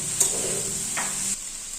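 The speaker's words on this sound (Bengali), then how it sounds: "নাড়াচাড়া দিয়ে নেব" Potatoes, tomatoes and carrots sizzle steadily in a pan while a spatula scrapes through them in a couple of quick strokes.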